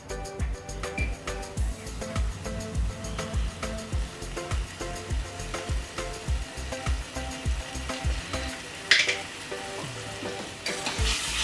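Spicy mutton kheema stirred and frying in a pan, a steady sizzle with rhythmic scraping strokes of the spoon about twice a second, close and clear, with a brief louder clatter near the end.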